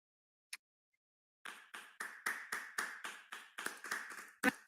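Applause in a conference hall: one lone clap, a pause, then a run of about a dozen distinct, evenly spaced claps growing slightly louder, sounding like a small number of people clapping rather than a full crowd.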